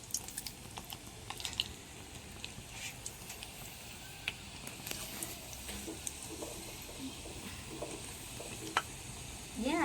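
Bonda frying in hot oil, a continuous close sizzle and crackle with scattered sharp pops throughout, no talk.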